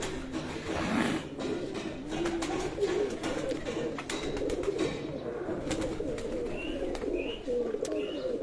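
Breeder pigeons on a rooftop coo steadily in a low, continuous murmur of overlapping calls, with brief higher chirps and rustling mixed in throughout.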